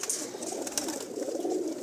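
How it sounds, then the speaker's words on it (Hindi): A pigeon on a village rooftop coos steadily and fairly close, a low continuous murmur running the whole time with other birds faintly in the background. "माशाअल्लाह बहुत अच्छा कबूतर है, बहादुर कबूतर है"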